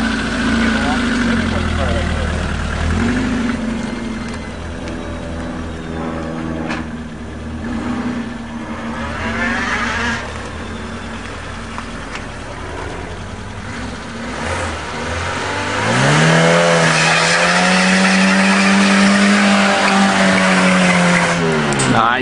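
A small Peugeot 106 hatchback drives along with its engine running steadily, rising to a louder, higher revving stretch near the end, heard from inside the car with no talk.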